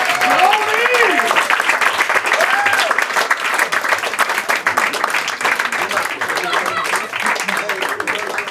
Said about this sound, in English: Clap it up for Tony Woods.